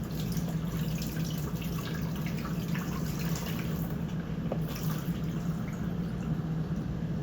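Water draining from soaked potatoes into a sink, a continuous low rushing pour with faint splashing and dripping, steady and fairly quiet throughout.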